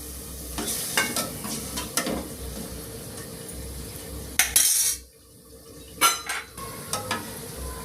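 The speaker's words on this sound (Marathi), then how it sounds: "हे चिकन आणि याचं सूप यात टाकून घेते." Chicken pieces and their soup poured into a pan of ground masala, a spoon scraping and stirring against the metal with sizzling and clinks, sharp louder bursts of liquid splashing in the middle, no talk.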